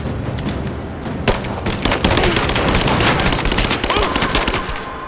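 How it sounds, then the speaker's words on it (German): Rapid gunfire in Rise of the Tomb Raider, shooting at walls, a continuous burst of automatic shots rattling close and loud with no pauses. "die Mauern kann ich noch verschießen"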